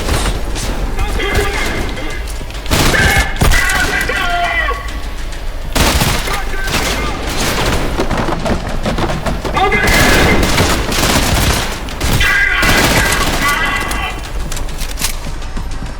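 Gunfire in the first-person shooter game Trepang2, loud rapid bursts and heavy crashing impacts repeated throughout, with a voice speaking over the action at times.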